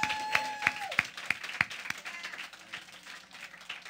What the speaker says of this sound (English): Come on, clap for him.